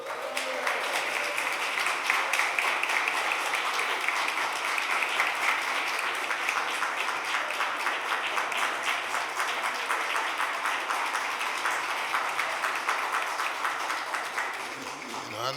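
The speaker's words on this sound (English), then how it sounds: "Can we give her a round of applause?" A room at a Philadelphia City Council meeting fills with sustained, even audience applause, a dense wash of many hands clapping steadily at moderate volume for over fifteen seconds.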